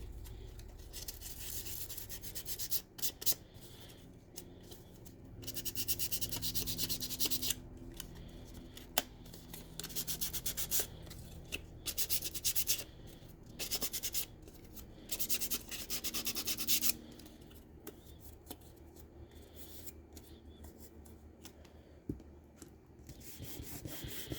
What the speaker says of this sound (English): I am going to sand these a little bit.